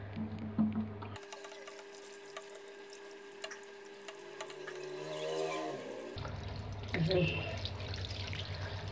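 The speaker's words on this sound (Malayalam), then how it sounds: "ഞാൻ വെള്ളത്തിൽ കഴുകി എടുക്കാൻ പോവുകയാണ്" Tap water runs steadily into a sink while a phone is rinsed under it, a continuous splashing stream with brief drips and clatter, someone speaking faintly in between.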